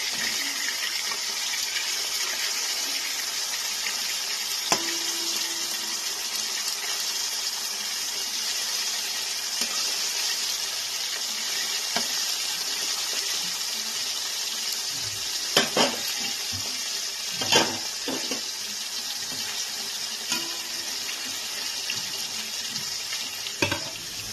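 Whole lote fish (Bombay duck) frying in oil in a pan: a constant bright sizzle with occasional clinks and stirring knocks, close and unbroken, with no talking.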